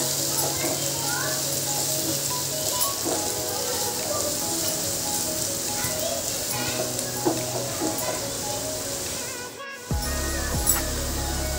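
Turmeric and other spices roasting in a pan for bhogi vegetable dish, a steady soft sizzle running throughout, with a brief drop and a low hum near the end.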